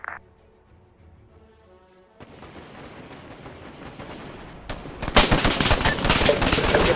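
Gunfire trades back and forth in an Arma 3 firefight among foliage, starting with sparse distant shots, then building into rapid bursts that grow louder and denser toward the end.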